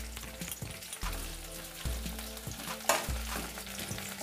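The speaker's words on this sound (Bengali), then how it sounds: "1 মিনিট ভেজে নেব" Chopped onion, ginger and green chilli frying in a pan, with a low sizzle broken by several sharp spatula knocks and scrapes against the pan, close by.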